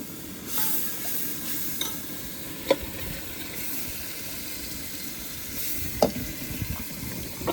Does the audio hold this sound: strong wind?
no